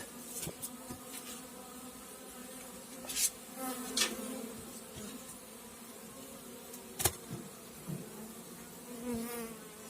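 A dense, steady hum of many honeybees buzzing close by in an opened hive during winter, with occasional louder passes and soft clicks from handling hive frames.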